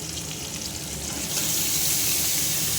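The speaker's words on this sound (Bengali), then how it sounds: "তো সোয়াবিনটা দিয়ে দিলাম সোয়াবিনগুলোকে একটু নাড়াচাড়া করে নেব" Marinated soybean chunks tipped into a hot pan with fried tomato burst into a steady frying hiss that swells louder partway through as they are stirred, close and continuous with no talking.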